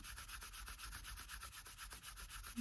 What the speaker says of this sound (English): I can also put a little moisture on it, burnish it a little bit more in those particular spots